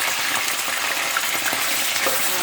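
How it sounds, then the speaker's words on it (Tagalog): Continuous hissing sizzle of chicken frying in hot oil in a pan, even and unbroken, with faint crackles throughout and no talking. "piniprito ko na po yung manok"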